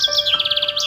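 A parrot gives a bright, rapid series of chirping, warbling calls, loud and close, in a single short burst with no other sounds around it.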